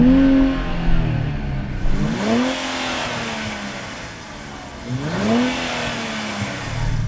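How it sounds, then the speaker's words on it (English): A Nissan Z with a 3-litre V6 turbo is revved twice, with the windows down. Each blip climbs sharply and then settles back to a throaty idle, loud and close. "I'm going to rev up my 3-litre V6 turbo."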